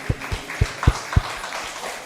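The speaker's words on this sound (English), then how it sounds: "Your trustees a round of applause." A handful of separate claps from a small audience at a Proviso Township property tax appeal meeting, applauding the trustees; the claps come in a loose, uneven run and thin out toward the end.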